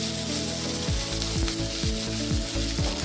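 Two sliced onions sizzle and fry loudly in hot oil in a pan, a steady crackling hiss with occasional stirring scrapes for an Indian-style egg macaroni.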